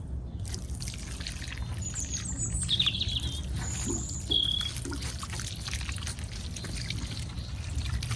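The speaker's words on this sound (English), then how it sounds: "I'm going to water it in, let it sink" Water pouring and trickling onto freshly fertilised soil around a Chamaerops fan palm in a garden, a steady splashing stream near at hand while birds chirp faintly in the background.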